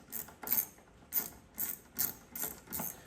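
A hand ratchet clicks in short bursts, about seven quick strokes close by, while working a T27 Torx bolt on a 2024 Harley-Davidson Road Glide motorcycle; no talking.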